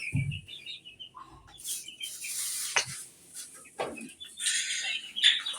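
Kadaknath chickens in a backyard poultry pen give scattered clucks and short calls, with chirps from other birds and a brief flutter of wings, fairly close and irregular without talk.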